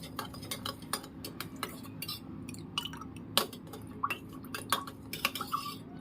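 A spoon stirs masala buttermilk ingredients in a vessel, making rapid, irregular clinks and taps, close and crisp, over a faint steady background hum.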